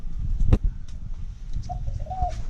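Caged birds calling in a bird camp, a low cooing with a sharp nearby flutter or knock, and a thin drawn-out call later, over steady outdoor background noise.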